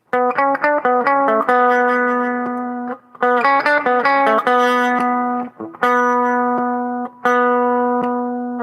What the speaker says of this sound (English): Now let's go to the bridge pickup.